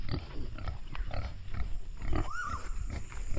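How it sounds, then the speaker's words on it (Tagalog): A pig grunts and snuffles nearby amid farmyard background noise, with low rough grunts scattered through and a brief higher squeal partway through. "Ang baboy."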